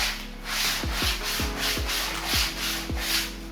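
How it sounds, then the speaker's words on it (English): 100-grit sandpaper rubs along the edges of a homemade wooden acoustic panel in a steady rhythm of about a dozen close, raspy strokes, with no talking. "The edges look really chaotic, so I fixed them using a sandpaper with 100 grit."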